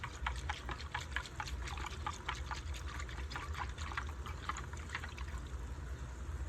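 Water is poured slowly into a cooking pot for a beef pot pie, a steady close trickle and splash with faint dripping.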